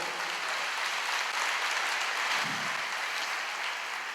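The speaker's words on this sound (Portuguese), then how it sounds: "Glória a Deus, aplauda ao Senhor." A church congregation applauds during a sermon, a dense, steady wash of clapping from many hands that holds evenly throughout with no speech over it.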